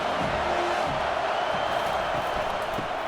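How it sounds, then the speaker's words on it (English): Crowd noise at a stadium in the College Football 25 video game, James Madison vs. USC: a steady, dense roar from the stands with scattered cheers and whoops, continuous and fairly loud throughout. "this crowd is turning it up a notch"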